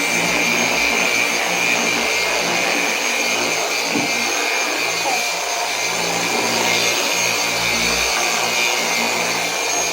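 A car polisher runs steadily with its pad on paint, a loud, continuous whirring drone held at a slow speed throughout with only slight variation, close up and without pause.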